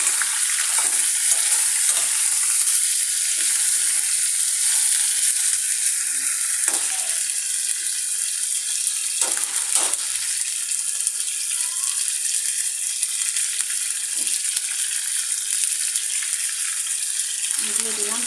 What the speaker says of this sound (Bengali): হালকা করে একটু ভেজে নিই।